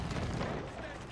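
A cannon fires in an Age of Empires IV match, a single dull boom partly buried under a commentator's voice.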